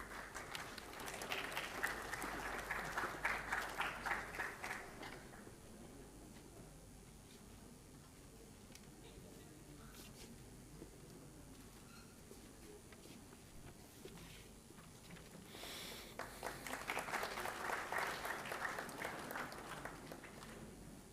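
Audience applause for award winners at an institute foundation day lecture, a burst of clapping at the start, a quiet gap, then a second round of applause near the end, both moderately distant.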